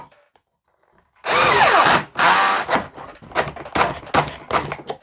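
A power drill driving a universal socket whirs hard for about a second, then fires in several short bursts, close and loud, with no talking.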